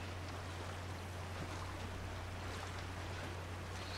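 Waterfall water in The Last of Us video game, a constant rushing roar with a steady low hum beneath it that holds evenly throughout.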